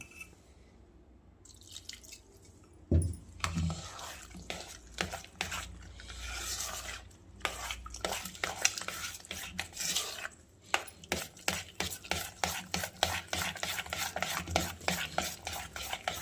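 A whisk beats bhaji (fritter) batter in a bowl with quick repetitive stirring clicks and drips, building into a steady rapid rhythm in the second half, close and moderately loud with no voices.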